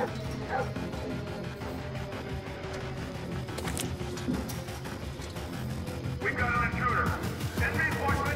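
Guard dogs bark and yip in a stealth mission of Splinter Cell Blacklist, a few sharp barks at mid distance, mixed under game music and ambience, with a brief higher yelping burst near the end.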